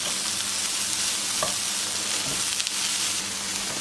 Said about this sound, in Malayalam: ഇനിയിപ്പോൾ നമുക്ക് തേങ്ങ ഇതിലേക്ക് മിക്സ് ചെയ്യാം.